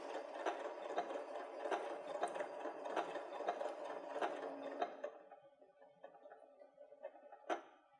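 A sewing machine stitches along the edge of a fabric leaf appliqué, a quick steady run of needle clatter that stops partway, followed by a few faint clicks and one sharp knock, close and quiet.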